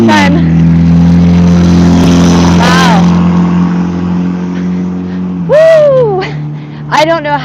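A loud car roars past on a street in a populated area, its engine drone swelling and fading over several seconds, heard close outdoors with a voice speaking near the end.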